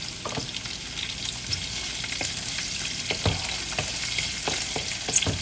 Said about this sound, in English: And then we're going to saute these onions